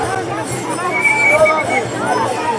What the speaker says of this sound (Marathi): पुढे बघा किती गर्दी आहे.